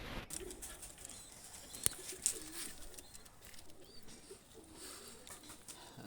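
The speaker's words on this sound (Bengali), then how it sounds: "দুইটা কবুতার ছেড়ে দেখাচ্ছি" Pakistani high flyer pigeons released by hand, heard as soft wing flaps and patter with a couple of sharp claps, plus faint cooing nearby against quiet background.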